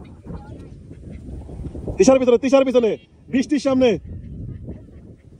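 A duck quacks loudly in two short bursts of harsh calls during a blindfolded catch-the-duck game at an Eid festivity, with people talking around it.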